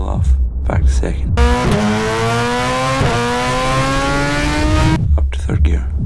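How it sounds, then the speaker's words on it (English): A BMW S1000RR motorcycle fitted with a Hindle exhaust revs loudly, then pulls away with a rising engine whine that climbs steadily for several seconds before dropping off, while a voice speaks over it. "rev the bike up, let go of the clutch"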